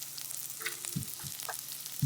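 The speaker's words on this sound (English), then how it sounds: "So we're going to just brown this." Sausage and turkey mince browning in a pan for chili, a soft, steady sizzling hiss with a few light stirring scrapes, quiet and close, with no talking.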